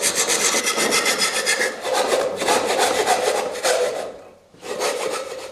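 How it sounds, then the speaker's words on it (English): Rapid back-and-forth rasping of a saw cutting through a metal saucepan, loud and close, in steady bursts with a brief pause near the end. "So why are we cutting up a saucepan?"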